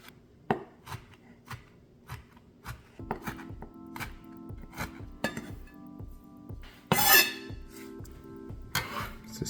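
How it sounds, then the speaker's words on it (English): A knife slices food finely on a board for a chicken soup, crisp rhythmic chops repeating at a steady pace, with light clinks of kitchenware in between. "all I'm going to do is just slice this up as finely as I can"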